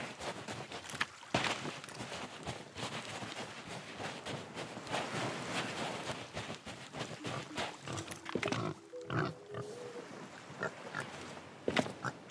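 A pig in the Sea of Thieves video game grunts and snorts repeatedly amid shuffling footsteps and game ambience, irregular and fairly close but quiet.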